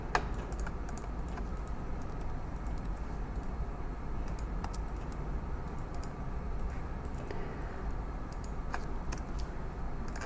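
Light computer-keyboard typing as a description is entered, faint scattered key clicks over a steady background hum with no voices.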